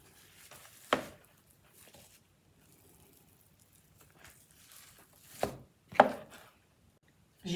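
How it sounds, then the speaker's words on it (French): A knife cuts through chebakia dough on a board, three sharp separate chops spaced a few seconds apart over a quiet background, close up. "on coupe la pâte"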